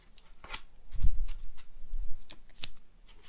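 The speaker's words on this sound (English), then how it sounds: "I'm going to continue to wrap masking tape so that this will be held into place" Masking tape being pulled off the roll and wrapped around a paper mache pumpkin reaper, with a few crisp ripping and crackling bursts and soft handling thumps close by.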